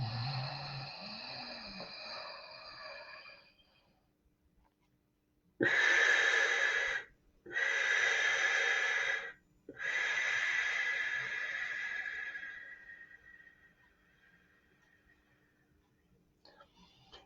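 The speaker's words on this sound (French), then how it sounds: "j'inspire profondément." Slow, deep breaths during a guided meditation: three long, loud inhalations in a row, each several seconds long with short pauses between, then a gradual exhale that fades away after a voice is heard at the start.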